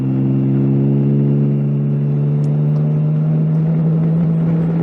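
A vehicle engine runs steadily in fourth gear on a road ride, a loud, continuous low drone with strong harmonic bands that holds an even pitch throughout, close up and with no voices.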